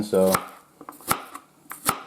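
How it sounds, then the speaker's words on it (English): A knife chops a small onion into thick cuts on a board, a quick burst of strokes followed by a few single sharp chops spaced apart, with a person talking briefly at the start. "Next up, I want to chop up some onions"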